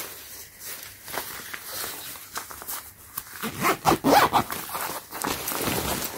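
A zipper on a Supreme x The North Face Steep Tech Apogee jacket, a vinyl and soft-fabric shell, is worked close up in several quick rasping pulls, loudest in a burst of short zips near the middle, with fabric rustle between.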